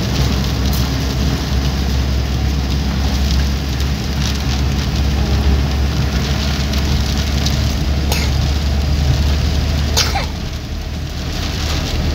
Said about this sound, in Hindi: बारिश हो रही है और ये हमारे सफ़र को और भी ज़्यादा खुशगवार बना रही है।